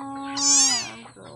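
A hungry house cat lets out one loud, drawn-out meow close by that rises and then falls away, with no talk over it.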